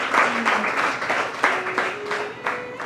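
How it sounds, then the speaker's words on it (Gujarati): An audience at a spiritual discourse at Samadhiyala Gurukul claps together, a lively, fairly close burst of applause with uneven peaks and a faint voice threaded through. "તાળીઓથી તો વધાવો"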